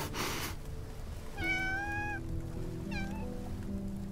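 A cat meows twice in a video game cutscene, a drawn-out rising meow followed by a shorter one, fairly soft over a steady background music bed.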